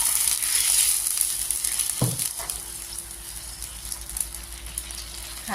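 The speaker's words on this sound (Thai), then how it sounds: "แล้วก็ใส่ขิงลงไปผัดก่อนเลยนะคะ ตามด้วยน้ำราดนะคะ" Ginger stir-frying with sauce in a pan gives a steady, close sizzle with one sharp utensil clatter partway through, over a faint constant hum, with no talk.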